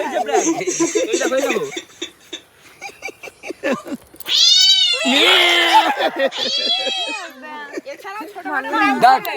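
A person imitates a cat with drawn-out, wavering meows, loud and close, mixed with bursts of talking and laughter.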